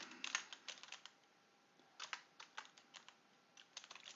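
Clicky computer keyboard typing heard close and quiet, with irregular bursts of keystrokes separated by short pauses, no voices.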